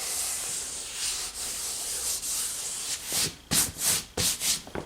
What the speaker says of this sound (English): you just want to gently wipe it down with the sandpaper, just like this